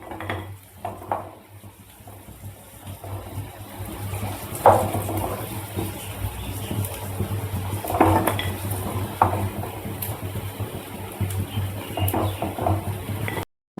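Fried cauliflower kababs are lifted out of a hot pan, with a soft background sizzle broken by scattered clinks and scrapes of a utensil against the pan.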